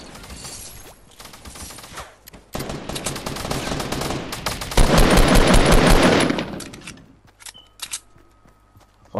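Rapid SMG bursts in a Fortnite Battle Royale squad match, loud dense automatic fire in several volleys building to a sustained stretch near the end, with scattered footsteps and clatter between bursts.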